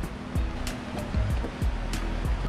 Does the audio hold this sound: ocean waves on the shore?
yes